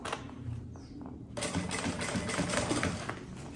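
A sewing machine stitches the curved seam of a fabric cosmetic bag in a steady, close mechanical whir, starting slow with soft taps and then running continuously and louder after about a second and a half.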